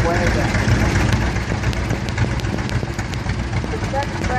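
A vintage Canadian-made Coxsackie tractor engine idles loudly during an outdoor tractor parade, a steady low rumbling chug that runs continuously with faint background talk.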